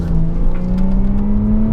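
A Porsche Cayman engine accelerating, loud and close, a steady throaty drone that rises slightly in pitch throughout, with no voices.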